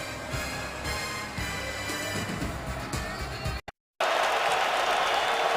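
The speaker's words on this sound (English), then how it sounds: "Crowd urging on the Lions defense on a 3rd and 6." Stadium crowd at a Falcons–Lions NFL game roaring to urge on the Lions defense on third down, a loud sustained wash of cheering that cuts out briefly, then returns even stronger.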